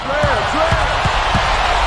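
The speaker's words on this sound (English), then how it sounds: "Goes up, and then Jordan slams it in." A basketball bounces several times on the court in NBA 2K11 ahead of a Jordan slam dunk, the thuds steady and close over constant arena crowd noise and a commentator's voice.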